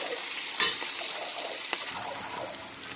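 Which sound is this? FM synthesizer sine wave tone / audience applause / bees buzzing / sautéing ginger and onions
sautéing ginger and onions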